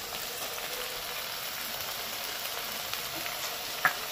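Cumin and coriander paste sizzles steadily in hot oil for a katla fish curry with ridge gourd, tomato and onion already fried, a dense even crackle with one brief louder pop near the end.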